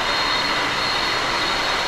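Train noise at a two-level elevated rail station in Bangkok, a loud steady broadband rumble and rush of a passing train, no talk.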